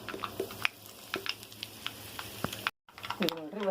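Mustard seeds and cumin crackle and sizzle in hot oil for a poha dish, with sharp scattered pops over a soft frying hiss, a brief drop-out, then a voice speaking.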